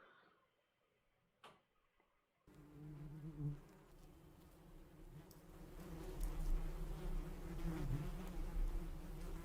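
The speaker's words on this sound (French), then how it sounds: "Abeille qui bourdonne." A swarm of bees drones in a dense, steady buzz that builds after a few faint ticks and holds loud and continuous to the end.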